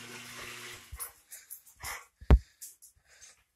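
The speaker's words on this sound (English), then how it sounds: "Oh, he's barking, man." A 14-year-old dog barks a few times nearby, short sharp woofs between quieter snuffles and shuffling, with one loud bark standing out.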